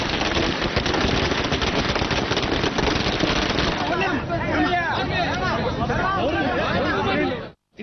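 Firecrackers burst in a dense, rapid crackling barrage at a political party celebration outside a town bus stand, loud and continuous before easing as crowd chatter and voices take over.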